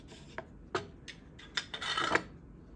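A chisel carving the braces on a guitar top: several short scraping, rasping cuts into wood, spaced irregularly, then a longer run of scraping near the end, close and fairly quiet, with no voices.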